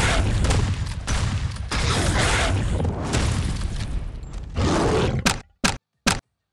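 Rocket and bomb explosions in a mobile video game: a dense, continuous roar of blasts and gunfire-like bursts for about five seconds, then three short sharp booms separated by silence.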